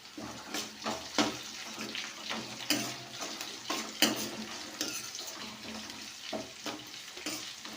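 Onions and green chillies fry in a pan, with a steady, close sizzle broken by repeated scraping and clattering strokes of a spoon stirring them, and nobody speaking.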